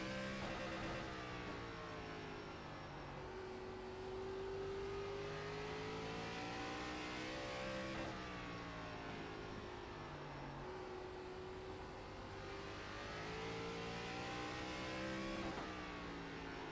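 ARCA stock car engine in the iRacing sim at Southern National, a sustained loud drone with harmonic whine rising and falling through gears across a qualifying hot lap, with periodic dips and pulls as the car brakes and accelerates.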